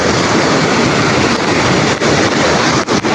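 Strong sea waves whipped up during Typhoon Emong, a loud, continuous roar of surf and wind-driven water pressing close, with only brief dips in the churning noise.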